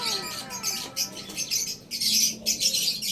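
Racing pigeons circling overhead in flight, heard as repeated soft bursts of wingbeat flutter and faint bird calls rising and falling over about three seconds, moderately distant with no talking.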